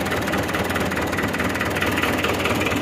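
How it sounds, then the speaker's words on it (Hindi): A tractor engine runs steadily on a dairy farm, with a back plate fitted for cleaning. The low, even mechanical drone stays close and constant, with no talking. "ट्रैक्टर के साथ बैक प्लेट।"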